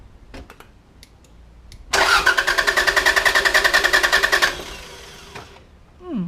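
A 1991 Toyota Celica GT engine cranks for a couple of seconds in a fast, even rhythm, loud and close, then stops without catching; faint noises before and after.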